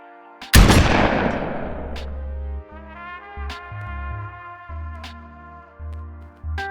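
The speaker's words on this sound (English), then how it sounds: "We're going to focus on the shotgun sounds and on the layering process from which the sounds were created." A layered shotgun sound effect built for a retro Western video game: one loud, close blast with a long decaying tail, then sustained tonal layers punctuated by several sharp metallic clicks.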